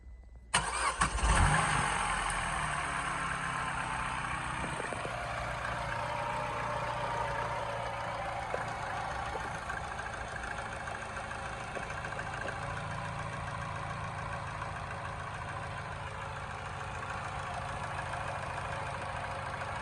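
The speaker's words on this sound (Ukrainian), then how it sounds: "Зараз запустимо автомобіль, послухаємо як він працює." A Citroën Berlingo B9 engine cranks and catches with a loud burst, then settles into a steady, even idle that hums on for the rest of the recording.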